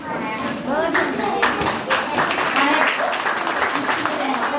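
Applause from an audience at a first-grade school literacy celebration, scattered clapping rising and continuing for several seconds while someone speaks over it.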